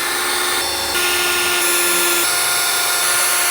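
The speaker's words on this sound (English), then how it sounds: "With the smaller drill bit, I'm going to make some pilot holes" Power drill with a small bit boring pilot holes for a trail locker installation, a continuous loud high-pitched whine with steady motor tone and shifts in pitch as it cuts.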